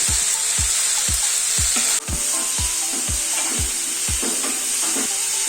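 Tomatoes with turmeric sauté in a pan for a digestive pathya rasam: a loud steady sizzle with a regular rhythm of about a dozen scraping spoon strokes, close by and without talk.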